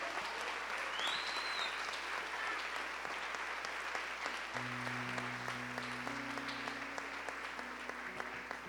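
A church congregation applauds in a steady, continuous wash of clapping that sounds somewhat distant, while a sustained organ or keyboard tone enters partway through.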